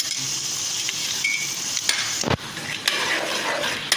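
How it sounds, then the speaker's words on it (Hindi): Steady loud sizzling of ginger garlic paste frying in hot oil with dark-browned onions, with a few sharp clicks of a spoon stirring against the pan. "इसमें अब हम अदरक लहसुन का पेस्ट डालने लगे।"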